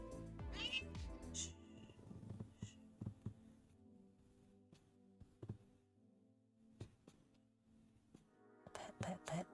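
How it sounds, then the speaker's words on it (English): A house cat meows several times close by while being petted, with a low steady purr-like hum beneath, short bursts of handling noise and a person talking softly at the start and end. "I'm petting you and you're purring."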